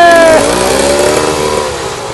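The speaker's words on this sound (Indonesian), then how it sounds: "Motor masih hidup." A modified motorcycle engine at a motorcycle event runs loud and close, its revs easing down from a brief high whine into a steady, slightly falling idle rumble.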